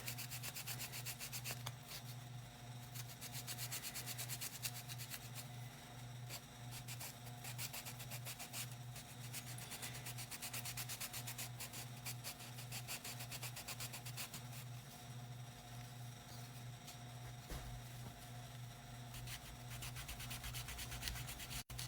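Cloth steadily rubs and wipes along the edges of a wooden Christmas tree skirt bench insert, a quiet, continuous scratchy friction with repeated strokes and a faint background hum throughout, no speech.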